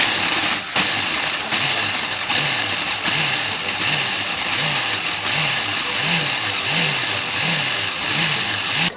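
A food processor grinding graham crackers into crumbs gives a loud, steady motor whir with a repeating rising pulse, running continuously and alone at close range.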